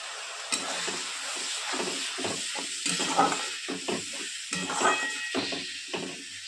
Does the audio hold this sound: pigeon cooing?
no